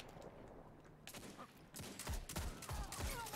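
Bursts of Destiny 2 gunfire crack out as a rapid, quiet volley in the second half, following a few scattered faint shots.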